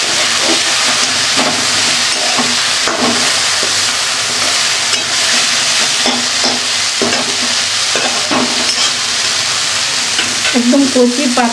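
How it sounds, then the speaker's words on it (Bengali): Tender taro greens fry in a pan with a steady loud sizzle while a ladle repeatedly scrapes and breaks them up, giving rhythmic stirring knocks throughout. "যে কোনো শাকের হাতা দিয়ে এইভাবে ভেঙে ভেঙে দিলে ভালো হয়"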